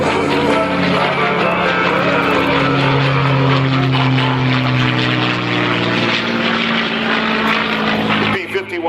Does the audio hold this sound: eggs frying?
no